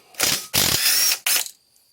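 A ratchet wrench works a 10mm bolt loose on a Honda Rancher 350 ATV engine, with three close, loud bursts of rapid pawl clicking separated by short pauses, then quiet.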